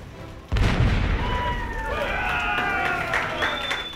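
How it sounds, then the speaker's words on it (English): A pirate ship's cannon fires once with a sudden heavy boom, followed by a lingering rumble and a crowd cheering and whooping afterward. "they let me fire off the cannon"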